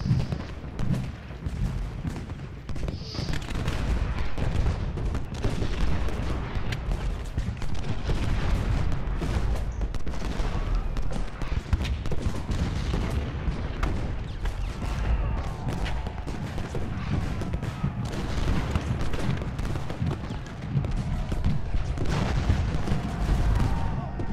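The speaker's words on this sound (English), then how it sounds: "Ward is in the open and getting just hammered by this Confederate artillery." Confederate artillery and musketry roar in a Civil War battle game, a dense, continuous barrage of booming cannon shots and crackling gunfire, loud and unbroken throughout.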